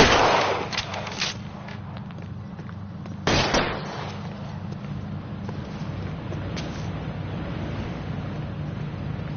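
Gunfire from the video game L.A. Noire: a sharp burst at the start and another loud crack a few seconds in, then faint scattered shots over a steady low rumble, with no talk.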